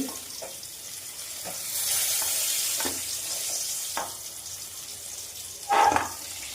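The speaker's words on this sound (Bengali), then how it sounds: "আমাদের ওদিকে ভাজা চলছে" Pointed gourd (potol) slices fry in a pan with a steady, moderate sizzle, broken by a few short clinks and stirring scrapes and a louder burst near the end.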